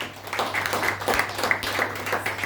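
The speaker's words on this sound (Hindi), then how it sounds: "इसके लिए जोरदार ताली हो जाए" An audience claps for a health product being presented, a continuous rhythmic round of applause from a crowd over a low steady hum.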